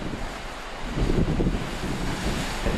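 Ocean waves roll onto the coast at South Australia's most southerly point, a steady broadband wash that swells louder partway through, with wind buffeting the microphone and no talk.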